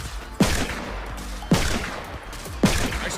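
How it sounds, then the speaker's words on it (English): Revolver gunshots in the Fortnite video game: three loud, sharp reports spaced about a second apart, each with a short decaying tail, over constant game background noise. "his trusty revolver was able to take care of most of them"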